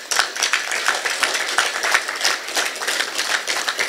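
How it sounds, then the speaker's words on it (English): An audience at a ministerial signing ceremony applauds, a dense, steady round of close clapping that carries evenly through the whole stretch with no voices over it. "I think that that is something that you ought to give yourselves a round of applause for"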